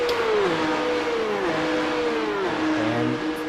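Porsche 911 Cup race cars in the iRacing sim run through the Porsche curves at Le Mans with a continuous, loud engine drone whose pitch glides down and up through gear changes, with no talking.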